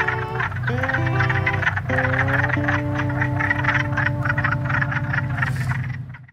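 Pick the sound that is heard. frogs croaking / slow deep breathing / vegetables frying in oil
frogs croaking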